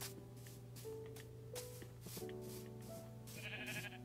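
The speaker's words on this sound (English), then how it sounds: "Y'all look at the fucking sheep." Sheep in Minecraft bleat repeatedly over a steady background tone, the wavering bleats rising and falling in short bursts against a farm-village soundscape.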